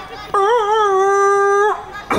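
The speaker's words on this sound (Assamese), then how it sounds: "এতিয়া এই কুকুৰৰ পোৱালিটোৱে গীত গাব" A puppy lets out one close, loud, drawn-out howl with a wavering pitch, like singing, for just over a second before falling silent.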